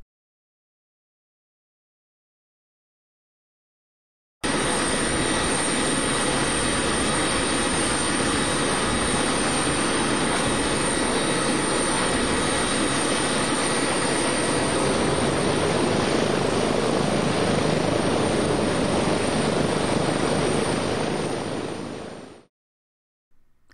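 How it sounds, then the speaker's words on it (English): Propeller engines of a Boeing C-97 Stratotanker starting up: after four seconds of silence, a loud, steady roaring drone rises and holds for nearly twenty seconds before cutting off abruptly. "as we watch an actual C-97 starting up"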